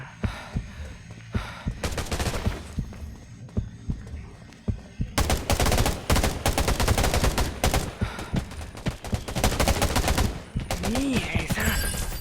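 Rapid automatic gunfire from the shooter video game Undawn, dense bursts of loud shots rattling in quick succession, with a brief lull before a long sustained stretch of heavy firing.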